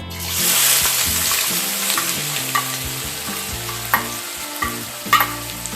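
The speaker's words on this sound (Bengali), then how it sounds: "চিনি ভালোভাবে গলে গেলে এর মধ্যে আমি একটা বড় সাইজের একদম ফাইন চপ করে রাখা পেঁয়াজ অ্যাড করে দেব।" Finely chopped onion frying in hot oil with melted sugar for chicken kala bhuna, a steady close sizzle broken by scraping stirs and a few sharper clinks of the spoon against the pan, with no speech.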